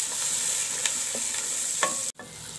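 Green chilies and tomatoes are stirred into fried onions in a pan for ridged gourd curry, giving a steady sizzle with a few scraping strokes, then a brief cut near the end.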